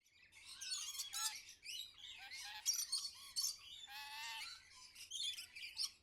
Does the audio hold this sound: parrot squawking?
yes